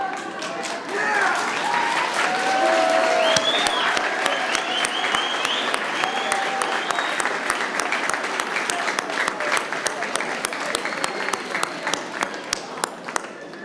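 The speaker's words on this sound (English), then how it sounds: "Would the graduates please turn around and applaud your families and friends on this special day." Applause from an audience at a high school graduation ceremony builds fast into sustained, dense clapping from many hands. Sharp individual claps stand out near the end as it thins slightly. A few voices carry underneath.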